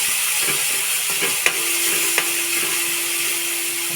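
Onions frying in oil in a pan for cabbage paratha, a steady bright sizzle throughout with a few sharp clicks and scrapes of stirring, close and moderately loud, with no talk.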